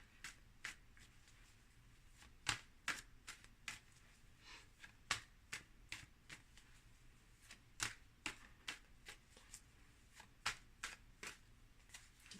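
Tarot cards being shuffled by hand, giving a steady run of crisp, close riffling snaps and flicks that repeat irregularly for several seconds with no talking.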